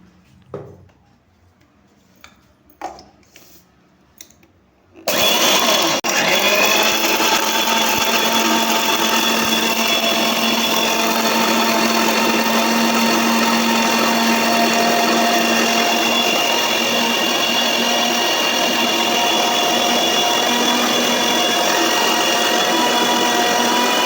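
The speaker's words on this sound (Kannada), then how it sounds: "ಇವಾಗಿದು ಮಿಕ್ಸಿ ಆಡಿಸ್ಕೊಳ್ಳೋಣ." A mixer grinder blends roasted chillies, garlic and onion with a little water. After a few soft clinks it starts abruptly and runs as a loud, steady, close whirring roar to the end.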